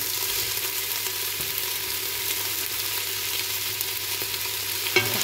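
Garlic and red pepper frying in a pan with steady, even sizzle, stirred throughout and ending in a sharper scrape near the end; no voices.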